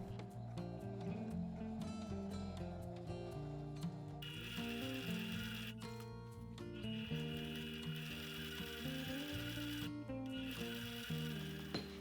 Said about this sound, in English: Once you're confident with the position of the wire and the width of zigzag stitches, you can start sewing faster.